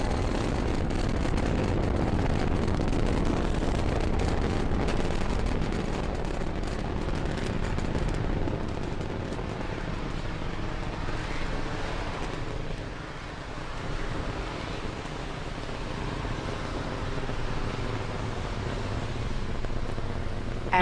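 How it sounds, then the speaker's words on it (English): A SpaceX Falcon 9 rocket clears the launch pad carrying the TESS spacecraft: a steady, heavy roar with deep rumble and broad crackling noise, loud and sustained throughout, easing slightly midway and swelling again, with no speech. "Falcon 9 has successfully cleared the pad and is now on its ascent with the TESS spacecraft in its fairing"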